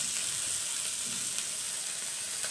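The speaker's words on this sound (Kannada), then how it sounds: "ಆಯಿಲ್ ಬೇಕಂದ್ರೆ ಈ ಥರ ಲೈಟ್ ಆಯಿಲ್ ಹಾಕಿದ್ರೆ ಸಾಕು, ಫಿಶ್ ಈ ಥರ ಫ್ರೈ ಆಗುತ್ತೆ ನಿಮಗೆ." Fish pieces frying in a light film of oil inside a multi maker, giving a steady, even sizzle and hiss that runs unbroken throughout with no voices.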